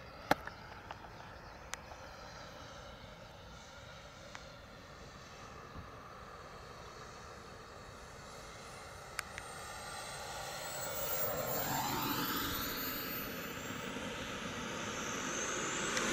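Mini Avanti model jet with a turbine engine flies past, a steady high whine that swells and sweeps in pitch as it approaches around the middle, then holds as a loud roaring rush toward the end.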